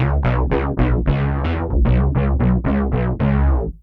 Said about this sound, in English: the mono synth. I'm using one sawtooth oscillator and one square,